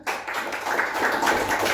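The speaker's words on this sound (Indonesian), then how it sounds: "tepuk tangan untuk semuanya" Audience clapping at a school positive-culture dissemination event, starting abruptly and swelling into a steady dense patter of many hands, fairly close and without talk.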